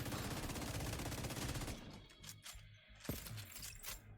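A light machine gun fires in the video game The Division 2, sustained rapid automatic fire for under two seconds, then scattered sharp shots and mechanical clicks.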